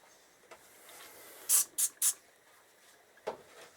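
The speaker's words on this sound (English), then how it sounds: "Alright, just going to use some degreaser." Three short, sharp bursts of degreaser spray in quick succession, hissing loudly against quiet background, aimed at motorcycle clutch parts on a Honda ST1100A, with faint handling clicks before and after.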